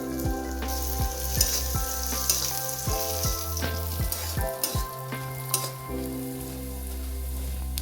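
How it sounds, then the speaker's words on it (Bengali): Tempering spices and black gram fry lightly in hot oil, a close, steady sizzle with frequent stirring scrapes and clinks of a utensil against the pan. "এরপরে এই ফোড়নটাকে অল্প করে ভেজে নেওয়া হবে, হালকা করে ভেজে নেওয়া হবে"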